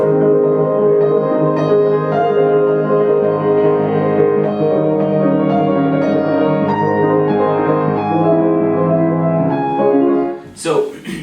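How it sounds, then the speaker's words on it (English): Solo piano plays Chopin's Harp Etude, Opus 25 No. 1, with dense rippling arpeggios and a steady sustained wash of harmonics, loud and close, ending in a brief noisy burst. "We'll do the Chopin Harp Etude here."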